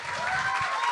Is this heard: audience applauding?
yes